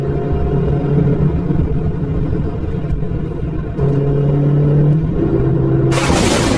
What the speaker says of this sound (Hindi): तभी एक व्यापारी अपनी गाड़ी से गांव में आ जाता है।